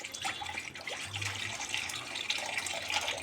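Water splashes and trickles into a pan set on the stove for boiling fish and potatoes, a continuous close pouring sound of moderate loudness with no voices.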